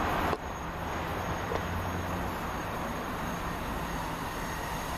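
A passenger train running from London Waterloo to Weymouth rolls past at Swaythling as a steady, broad rumble of wheels and carriages, fairly close, with no voices.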